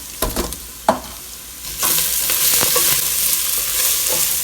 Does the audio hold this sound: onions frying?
yes